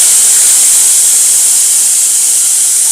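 Bitter gourd slices frying in hot oil in a wok with fenugreek seeds, giving a loud, steady, continuous sizzle and hiss with no break from start to finish.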